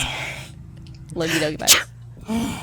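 A single sharp sneeze bursts out in the middle of casual indoor conversation, loud and close, with people talking before and after it.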